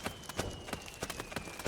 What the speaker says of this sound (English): Hear those footsteps?